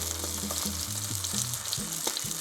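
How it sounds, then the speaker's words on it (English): Juicy Marbles vegan steak sizzles in a hot pan as its edges are seared, a close, steady frying hiss with a low hum and occasional pops. "then we're just going to carefully sear each of the edges"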